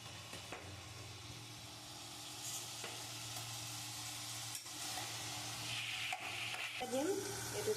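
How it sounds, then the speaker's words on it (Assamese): Chopped onions fry with pork in a pan, giving a continuous soft sizzle broken by several scrapes and knocks as a utensil stirs them. "এতিয়া এড কৰিছোঁ কাটি থোৱা পিঁয়াজখিনি"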